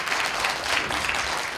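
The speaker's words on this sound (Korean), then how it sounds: "큰 박수 부탁드리겠습니다" Audience applause at a cultural centre academic conference, a dense even patter of many hands clapping together, steady and fairly close for a brief moment.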